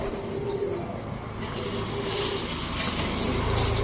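Pigeons, including a wild pigeon with a badly bent leg, coo softly in a new coop while eating wheat and mixed feed, low murmuring calls repeating under a steady rustling background.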